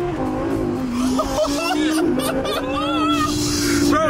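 A supercharged Audi R8 accelerating hard with its wheels spinning, a loud sustained engine drone with rising whine and tire squeal, under excited talking and laughter.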